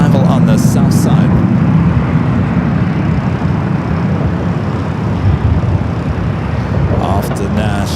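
Frontier Airbus A321neo in Honey the Badger livery arriving from Houston on the south side of Los Angeles airport, a steady loud broadband jet roar throughout with wind-like rumble and some faint background voices.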